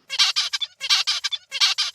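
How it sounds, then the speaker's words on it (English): Young male zebra finch with Cntnap2 knockdown singing three repeated motifs of harsh, buzzy harmonic syllables, each burst about half a second long with short pauses, loud and close with no other sounds. "young male birds with this disruption produce songs with different motifs."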